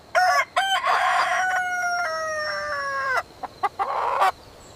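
A rooster crows in one drawn-out cock-a-doodle-doo, loud and close, with a few short clucks and chicken calls before and after it.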